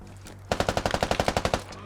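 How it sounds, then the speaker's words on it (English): A machine gun in a tactical shooter game fires a steady burst of about fourteen evenly spaced, punchy rounds at close range, alone after a brief quiet lead-in. "That's an MG."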